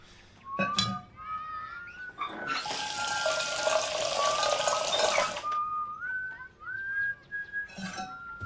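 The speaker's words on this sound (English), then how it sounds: "Okay, I guess we're boiling some water." Tap water pours steadily into a cooking pot in the video game F You Witch, a dense broadband rush lasting several seconds, framed before and after by whistling game tones.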